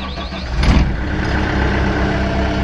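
A convertible excavator and skid steer machine runs its engine close by, a steady low diesel rumble with a brief swell early on, then an even drone throughout, no talk.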